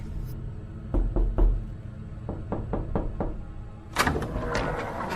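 Knocking on a wooden door as a dramatized story effect, with three firm knocks, a pause, then a quicker run of four raps, followed by a brief louder clatter near the end.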